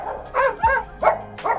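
A dog barks several times in quick succession, loud and close, with short yelping, whimpering notes between the barks; it stands on a tram platform.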